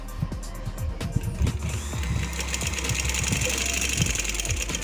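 A sewing machine stitches a shirt seam, a steady rapid mechanical whir with rhythmic needle clatter running continuously and fairly close.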